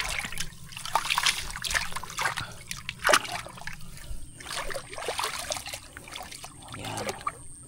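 Water trickling and splashing steadily as it flows into a field, a close running flow with irregular drips and splatters, fairly quiet, no voices.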